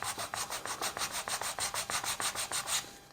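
Sandpaper rubbed over a wooden fan surface in quick, regular back-and-forth strokes, a steady close-up scratching rhythm with no talk.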